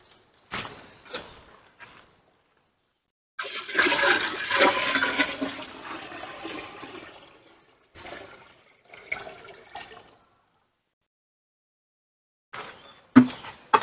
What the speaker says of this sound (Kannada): ಈಗ ಐದು ಲೀಟರ್ ಗಂಜಲ ಇದಕ್ಕೆ ಹಾಕಿ